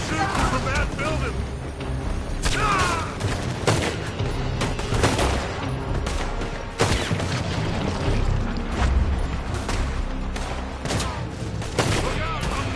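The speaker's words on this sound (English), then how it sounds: "They're shooting from that building." Video game gunfire from a building, dense bursts of shots and booms rolling on throughout, loud and continuous, with a voice talking over the shooting.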